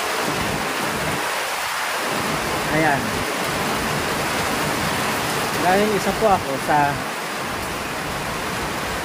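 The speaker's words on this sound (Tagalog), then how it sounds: "natutuwa ako kapag malakas ang ulan" Steady heavy rain hisses throughout on a rooftop farm, broad and constant, while a person speaks briefly over it near the middle.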